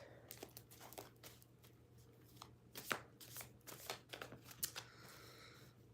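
Tarot cards are shuffled by hand in a quiet room, quick riffling and slapping bursts in irregular runs over a steady low hum.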